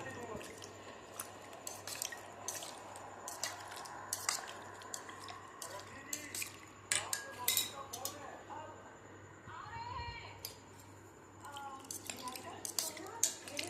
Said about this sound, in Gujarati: અને હવે આપણે આને મિક્સ કરી દઈશું